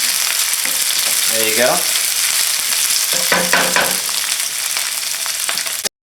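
Peppers and shallots fry over medium heat in a pan, a constant bright sizzle with a few scraping stirs partway through; a voice speaks briefly before the sound cuts off abruptly.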